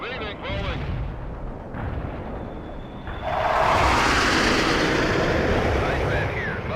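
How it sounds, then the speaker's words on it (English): A cluster bomb detonates in the strategy game World in Conflict, a loud, rumbling spread of overlapping blasts that swells midway and stays heavy, with in-game radio voices talking over it. "Cluster bomb hit nothing but dirt."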